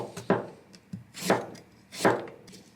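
A knife slices through a small piece of carrot on a wooden board, giving three crisp, close chopping thuds spaced under a second apart, with no talking.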